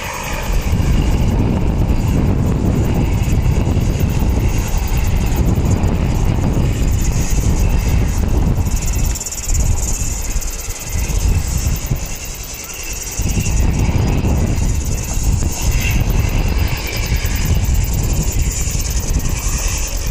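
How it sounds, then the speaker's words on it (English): Sounds Air Cessna Caravan 208 small turboprop plane at Wellington Airport, a loud, close, continuous engine drone with a buzzing propeller tone that holds steady with only brief dips, no talk over it. "It's going to Blenhiem, that little Sounds Air. It's a Caravan 208."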